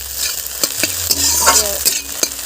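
An egg fries in a hot pan with a steady bright sizzle, broken by several sharp scraping strokes as it is stirred and turned.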